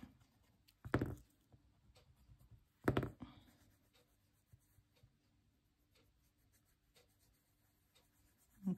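Mungyo oil pastels blended on paper with blending tips, producing quiet, close scratchy rubbing strokes with two louder bursts of scraping amid soft near-silence.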